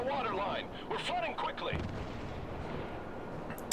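Warspite battleship firing an artillery volley in World of Warships, heavy booming blasts with a rumbling decay under distant game noise, with a commentator talking.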